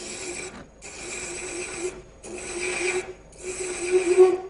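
A hand thread chasing tool recuts a thread in wood spinning on a lathe at about 300 RPM, giving three long raspy scraping passes separated by short pauses, close and steady.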